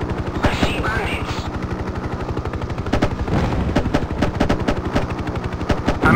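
Rapid machine gun fire in the Hind 1998 helicopter combat game, a dense continuous rattle of evenly spaced shots over helicopter engine drone, loud and close, with brief pauses between bursts.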